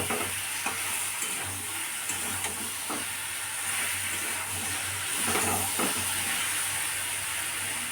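Potato and soybean curry stir-fried in a pan, a steady loud sizzle with repeated scraping strokes of a spatula at an uneven pace throughout.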